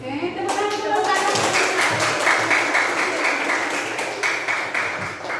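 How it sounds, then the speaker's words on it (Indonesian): Classroom applause from students after a group finishes presenting its discussion; brisk, close, dense clapping from a room of pupils starts abruptly and continues evenly for several seconds before easing slightly at the end. "Oke, tepuk tangan."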